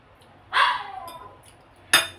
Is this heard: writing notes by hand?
no